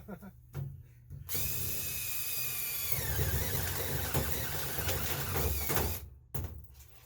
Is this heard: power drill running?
yes